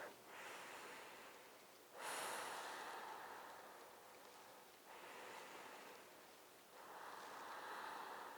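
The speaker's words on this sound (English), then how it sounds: "Take 3 deep breaths." Slow, deep breathing during a seated spinal twist stretch, with long airy inhales and exhales rising and falling in a steady rhythm, close and soft, no talking.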